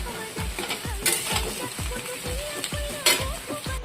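Potatoes fry in hot oil in a pan for a poppy-seed potato dish, a loud constant sizzle broken by a regular series of scraping stirs and clinks from a spatula, close up with no talking.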